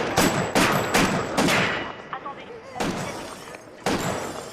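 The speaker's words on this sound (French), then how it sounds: "Oh putain, il tire, il shoot!" Gunshots from the TV series Fargo ring out as a series of sharp, loud bursts: several rapid blasts in the first two seconds, then two more spaced shots, each with a crackling tail, while voices react over them.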